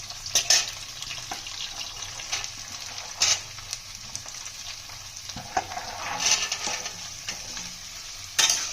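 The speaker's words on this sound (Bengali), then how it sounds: "ফুলকপিগুলো একটু ভাজা ভাজা হয়ে গেছে, এবার গাজর আর বিনসগুলো দিয়ে দেবো" Carrots and beans fry in oil alongside lightly fried cauliflower for a vegetable pulao, with a steady close sizzle broken by sharp clattering stirs and scrapes of a utensil in the pan.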